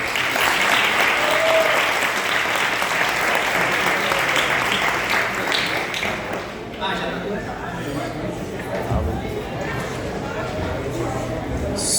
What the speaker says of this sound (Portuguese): uma salva de palmas para ele aí